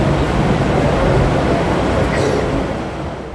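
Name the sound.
train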